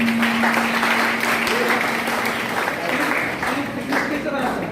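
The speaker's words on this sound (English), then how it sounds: "Big round of applause." Sustained applause from a crowd at a school science workshop in Hyderabad, steady and fairly loud throughout, with some voices mixed into the clapping.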